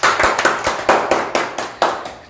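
A few people clap their hands together in a home kitchen after a new Vidiem Air Plus gas stove is lit, about ten sharp claps in a quick, slightly uneven rhythm, close and fairly loud.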